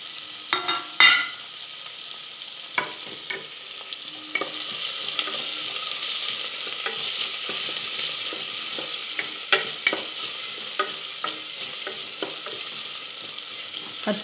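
Onions frying in a pan for akki usli, a rice dish, give a continuous hiss of sizzling oil with scattered sharp clicks and scrapes from stirring, starting soft then building to a steady, close sizzle.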